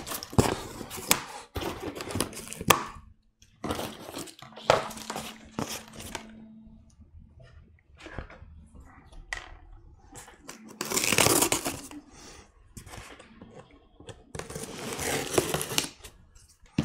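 Straps being cut and pulled off a shipping crate sent to Iceland, with bursts of loud, close snapping, tearing and crinkling separated by quiet gaps, no talking.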